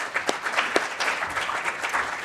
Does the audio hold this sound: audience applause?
yes